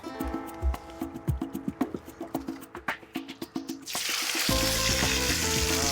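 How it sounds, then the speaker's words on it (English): Intermittent clicks and taps give way to a sudden loud, steady sizzle as chili puree hits hot lard in a pan, continuing crackling to the end. "That's the sizzle that I was looking to hear."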